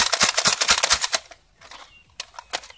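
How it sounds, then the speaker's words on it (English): A Nerf-style toy blaster pistol with slam fire shoots repeatedly, first as a quick run of sharp snapping shots, then a few scattered pops after a brief lull, all close and loud. "it has slam fire, which of course means you can just hold down the trigger and then just keep priming it over and over again"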